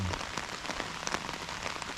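Steady rain falls during a deer hunt, a dense, even patter of drops close by with no voices, constant for the whole stretch.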